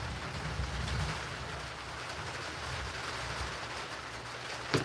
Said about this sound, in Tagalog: Narinig din na ulan?